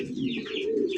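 A pigeon coos steadily at close range on a pigeon farm, a soft, continuous throaty warble with faint chirps behind it; a bright red pigeon is among the birds.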